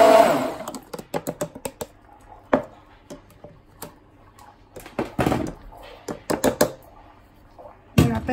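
A blender whirs in short pulsed bursts and then stops while banana, strawberries and orange juice are made into a smoothie, with knocks and handling sounds between bursts.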